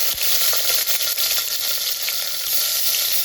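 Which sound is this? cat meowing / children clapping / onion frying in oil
onion frying in oil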